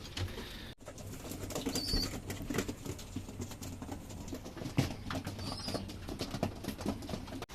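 Racing pigeons shuffling and fluttering close by, soft wing flaps and scratchy patter over a busy rustling background, with faint high chirps now and then.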